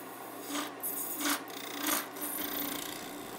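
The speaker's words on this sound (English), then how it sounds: "still working with the negative rake carbide tool" Carbide tool with a negative rake scraping a resin bowl on a lathe, working the foot and side; a steady raspy hiss that swells and eases in broad strokes, close and continuous with no talking.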